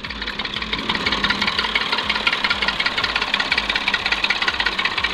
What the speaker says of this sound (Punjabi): ਇਹ ਟਰਾਲੀ ਆ ਗਈ ਹੈ ਜੀ